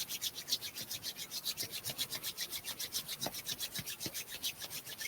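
Hands rubbing briskly together during a gentle flow practice, a soft close-up swishing friction repeating in a quick even rhythm, faint and alone.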